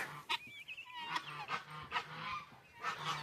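Guinea fowl on a homestead give repeated harsh, honking calls in short bursts, fairly close and moderately loud over a steady outdoor background.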